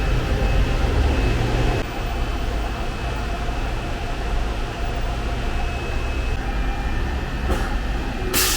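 Seattle's 1962 monorail train pulls away from a station, rumbling steadily with broadband rail noise, loud and close, a brief shift early as it gets moving and a faint squeal near the end.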